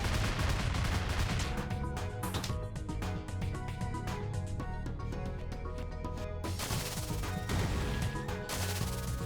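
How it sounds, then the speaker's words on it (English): Rapid bubble-gun fire in the video game Freedom Planet, a steady stream of loud shots layered over busy, continuous game music. "Especially when I got the bubble gun and just fire up."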